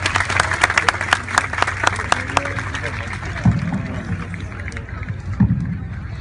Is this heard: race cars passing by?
no